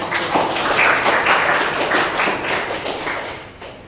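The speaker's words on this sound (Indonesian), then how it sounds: "Kita beri tepuk tangan untuk apresiasi." A classroom group applauds after a student presentation, a dense, steady wash of many hands clapping together that stays loud throughout and fades slightly at the very end.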